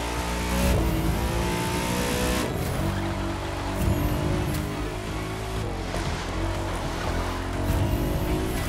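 A BMW M8 Coupé in The Crew 2 video game drives with a steady, loud engine drone that keeps running throughout, with slight shifts in revs and no talking over it.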